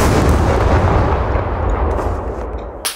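A grenade blast in the survival shooter Scum bursts loud and close at the start, a broad roar that slowly fades over a few seconds before a sharp short crack near the end.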